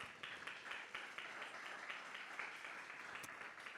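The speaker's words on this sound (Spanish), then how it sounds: "a quien también le damos un fuerte aplauso" An audience at a Latin American circular economy festival gives a faint, steady round of applause, with individual claps blending into a soft continuous patter.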